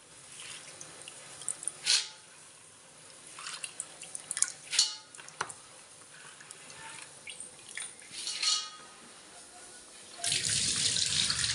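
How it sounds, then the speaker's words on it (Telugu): Horse gram being rinsed clean in water, with intermittent splashes and trickles like a running tap into a vessel, then a steady louder rush of pouring water toward the end. "ఇప్పుడు శుభ్రంగా క్లీన్ చేసుకున్నామండి ఉలవలు"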